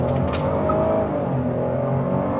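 A 2023 GMC Acadia SUV with a 3.6 L V6 accelerates, its engine note a steady rising drone heard from inside the cabin for a couple of seconds.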